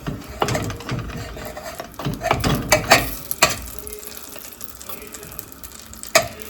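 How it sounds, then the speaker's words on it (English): Butter melting in a pan gives a faint, close sizzle under clattering knocks and scrapes of a utensil, busiest early on before settling to a quieter hiss. "So we're gonna melt the butter."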